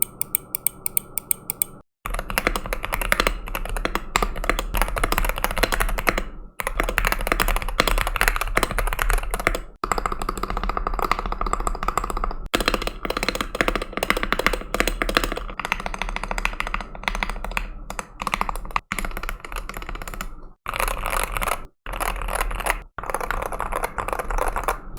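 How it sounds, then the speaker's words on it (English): Typing on a keyboard with pre-lubed Lecker linear switches and stabilized keys, a steady stream of close, dense clacks and taps with brief pauses, heard alone without talk. "The Lecker linear switches are pre-lubed and are very smooth, and they sound great, and so too do the stabilized keys."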